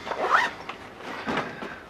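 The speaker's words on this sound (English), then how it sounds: "Also has a nice big zip-up pocket right here." A zipper on the large zip-up pocket of a Tru Spec Gunny backpack is pulled in a few quick, scratchy runs with brief pauses, close and fairly clear.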